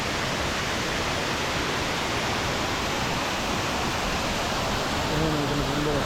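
Wewalwatta waterfall in Ratnapura gives a steady, broad rushing roar of falling water, loud and continuous throughout, with a person talking briefly near the end.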